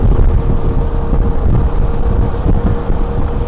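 An adventure motorbike rides along a scenic road toward Ranjangaon in Maharashtra. Steady, loud wind buffeting and road rumble fill the whole stretch, with no talking.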